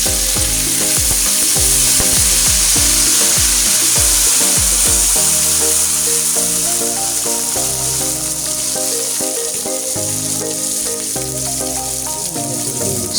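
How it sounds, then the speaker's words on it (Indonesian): Ground chili paste sizzling loudly in a hot wok with browned garlic, a steady close crackle and hiss of frying with occasional stirring scrapes, continuous throughout. "sekarang masukkan cabai yang sudah dihaluskan tadi ke dalam wajan"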